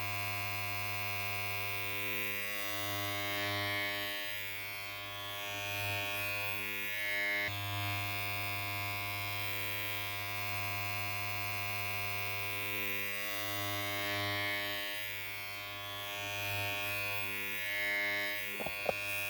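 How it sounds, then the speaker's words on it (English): An electric hair clipper buzzing steadily with a tonal hum while cutting semi-afro hair during a low round fade, close and continuous at moderate level, with slight variations as it moves through the hair and a brief knock near the end. "Reattach your number 1 guard and fully open the clipper lever."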